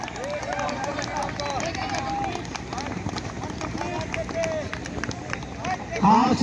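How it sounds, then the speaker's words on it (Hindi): Applause for children at a gathering, with dense, steady clapping from a crowd while someone talks loudly over it the whole time. "जोरदार तालियां बच्चों के लिए"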